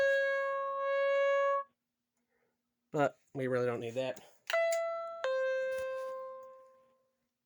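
An AiPhone C-ML intercom door bell rings out a sustained electronic chime, then someone speaks briefly before a second ringing tone sounds and slowly fades.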